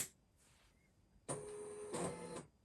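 A printer attached to a Brother PPD-110/120 pattern programming device switching on, loaded with fan-fold paper: a short click and brief whir, then a louder steady mechanical hum with a shifting tone for about a second before it stops.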